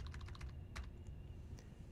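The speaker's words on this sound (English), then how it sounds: "I'm going to type S1." Quick keystrokes on a computer keyboard: a short burst of soft, close taps followed by a few scattered clicks over a low hum, with no talking.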